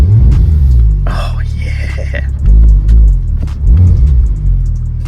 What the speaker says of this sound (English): Let me start it. So Porsches, it starts on the left.